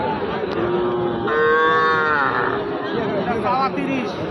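Young heifer calves at a busy cattle market, giving a loud, drawn-out moo in the middle with shorter bawls later, over steady crowd chatter and nearby voices.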